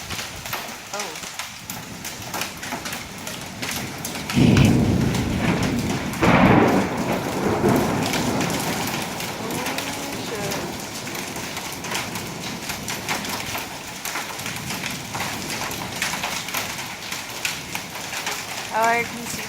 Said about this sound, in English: There's the hail.